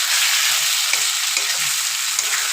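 Taro greens with lota dried fish fry in oil in a pan, making a steady, loud hiss of sizzling close by, broken by faint stirring scrapes, with no speech.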